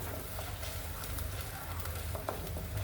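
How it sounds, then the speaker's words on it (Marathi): Masala paste for malai kofta gravy fries steadily in hot oil, a continuous close sizzle and crackle with no talking, holding an even level throughout. "त्या मसाल्याला तेल सुटेपर्यंत तळून घ्यायचं आहे"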